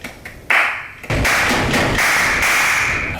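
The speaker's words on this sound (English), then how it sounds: "I'm just gonna add a quick clapping loop just to finish off the drums" A clapping drum loop added to a pop song's beat plays alone, sharp close claps landing in a steady bouncy pattern with a few lighter taps at the start.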